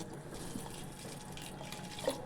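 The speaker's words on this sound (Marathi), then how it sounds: "थोडंच पाणी घालायचं आहे एक वाटीच्या पण कमी पाणी घातलं आहे" Water poured into a cooking pot holding jaggery runs with a soft, steady trickle and splash close by, with a brief brighter splash near the end and no talking.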